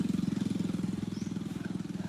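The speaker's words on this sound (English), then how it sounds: "Oh, I hear something like a boat." A boat motor on a lake near a fish farm in Aklan, Philippines, gives a brief, steady chugging putter with a rapid even pulse, heard at moderate volume without speech.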